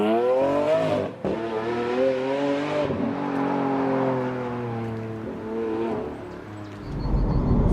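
A 2014 Lamborghini Aventador LP 700-4 with a 6.5-litre V12 drives off, its engine revving up through rising, falling tones that are loud and close, ending in a deep rumbling roar, with no speech.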